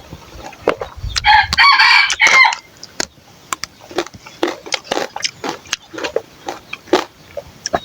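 Wild and domestic chickens heard up close, with a rooster crowing loudly and scattered clucks and short calls from the flock before and after it.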